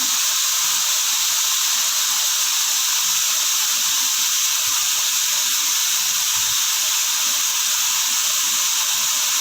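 Onions fry in hot oil with turmeric added, making a loud, even, unbroken hiss that holds steady throughout without pauses.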